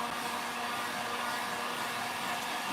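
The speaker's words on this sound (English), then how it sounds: "If you're using a hairdryer, you can get as close as you want" A hair dryer blows hot air onto a surface as a steady, close broadband whoosh with a faint constant hum, unbroken throughout and heard alone.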